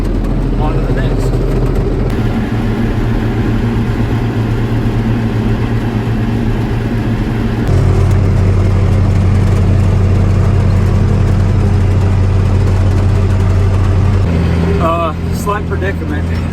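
A tractor engine drones loud and close from inside the cab while working a dusty field, a steady low rumble with sustained tonal hum that shifts pitch twice as the revs change, with a brief lighter noise near the end.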